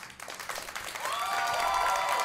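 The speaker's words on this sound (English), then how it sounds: "I added the cheering and clapping" Studio crowd cheering and clapping added as a sound effect, a dense wash of applause that swells after the first second and holds steady and loud to the end.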